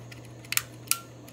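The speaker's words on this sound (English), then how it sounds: "would help if I actually armed the shutter, I suppose" A Hayamou Corex reusable 35mm film camera being handled, giving a few small sharp mechanical clicks as the shutter is armed, close and quiet over a low steady hum.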